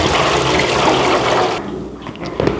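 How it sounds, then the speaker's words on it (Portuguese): Water is poured out of a bowl of soaking vegetables in a kitchen, a loud, rushing splash that runs steadily for over a second and a half, then thins to scattered trickles and drips. "Aí o que eu faço? Eu jogo a água fora."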